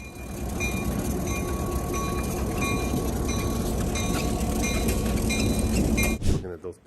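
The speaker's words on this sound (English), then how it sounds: "this crew lets the train carve its own path through new asphalt, clearing the rail gaps instantly" A train runs over newly laid asphalt at a rail crossing with a dense, loud, continuous rumble and metallic clinks, then cuts off abruptly near the end.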